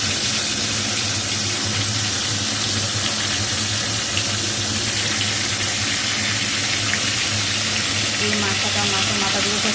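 A fish head sizzles as it fries in hot mustard oil in a home kitchen, a steady loud crackle and hiss that lasts throughout, with a voice speaking faintly over it.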